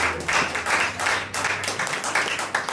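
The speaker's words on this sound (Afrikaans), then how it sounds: "Kom ons gee Pastor Zelna 'n lieflike hande klap." A church congregation claps steadily in a dense, rhythmic round of applause, moderately loud and without speech.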